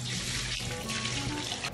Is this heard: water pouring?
yes